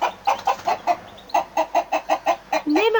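A rooster clucks in a quick, regular run of about a dozen close, loud clucks, then lets out a rising squawk at the end.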